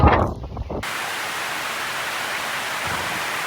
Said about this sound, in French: il pleut des cordes, vraiment il pleut